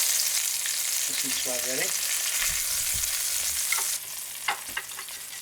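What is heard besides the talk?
Atlantic salmon searing in a pan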